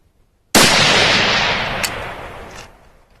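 A single loud, close rifle shot from a 6.5 Grendel fire-forming 7.62x39 brass with 19.5 grains of IMR 4198 and a Winchester large rifle primer, a sharp crack followed by a long rolling echo that fades over about two seconds.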